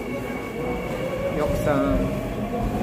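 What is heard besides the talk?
subway train arriving at station in Seoul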